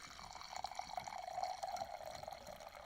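Boxed wine streams from the spout of a Bota Box into a glass, a thin continuous trickle that is close and soft, with no talk over it.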